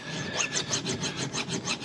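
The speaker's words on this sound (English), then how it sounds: "file down the little mushroomed part there, just so it'll fit on the ratchet" A metal file worked by hand against the mushroomed end of a steel socket, rasping in regular back-and-forth strokes, about seven close, scratchy passes at a steady rhythm with no talk.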